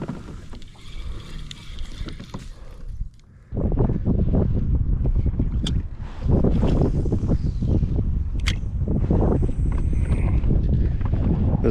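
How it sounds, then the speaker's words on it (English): Wind buffeting a kayak out on the water while fishing, gusty rushing and microphone rumble that grows louder after a short lull, with small knocks and splashes against the hull and no talking. "It's not horrible wind, but it's annoying. Kind of blowing me all over the place."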